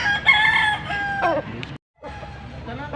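A Boston breed rooster crows once, loud and close, in a drawn-out call that breaks off briefly, with faint background clatter from a poultry sale.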